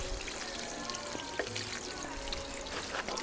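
Water is poured from a watering can onto peas sown in a gutter, making a steady, close splashing and trickling that lasts the whole moment with no talking.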